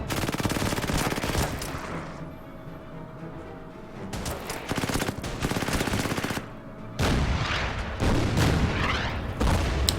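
Artillery fire in the strategy game Order of Battle at Tobruk, with bursts of rapid gunfire and heavy booms that rise and fall in dense, loud waves and brief lulls, without any voices.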